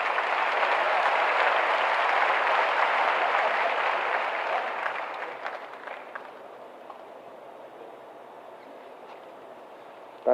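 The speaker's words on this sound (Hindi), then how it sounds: "तालियां बजती रहनी चाहिए" Dense crowd applause at a ceremony handing appointment letters to new Bihar police constables, loud and sustained, then thinning and fading into scattered claps over the last few seconds.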